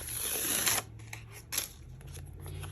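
Backing sheet peeled off an adhesive sheet during card making, a crackling, rustling tear that runs loud for under a second, then a second brief peel burst, with quiet handling noise between.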